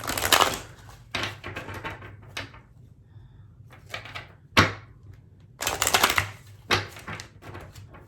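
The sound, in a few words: shuffling and drawing angel oracle cards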